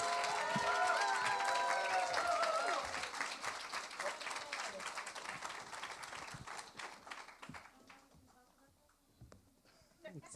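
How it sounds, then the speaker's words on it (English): Audience giving a round of applause at a panel event about the music of Shondaland, loud clapping with cheers for the first few seconds, then thinning out and fading as a voice begins speaking. "Let's give them a round of applause."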